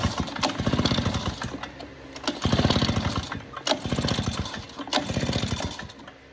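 A Poulan PR46BT leaf blower two-stroke engine cranked at full throttle during a compression test, loud close buzzing engine pulses in repeated surges with brief dips between, no voices.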